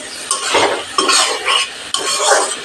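Fish curry spices and fried potatoes stirred in a pan at medium heat, with repeated scraping strokes of a utensil against the metal over a soft sizzle, close and fairly loud.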